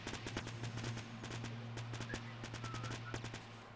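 Rapid bursts of automatic gunfire in the video game Fortnite crackle steadily through the whole stretch, dense repeated shots over a constant low in-game hum with no talking.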